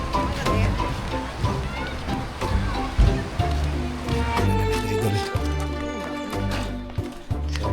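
Waterfall at Kawasan Falls in Badian, Cebu, a constant rushing wash of falling water close by, with voices and other sounds mixed in over it.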